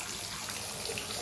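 Cold water running steadily from a bath tap onto bare feet in a bathtub, a continuous close splashing rush with no talk.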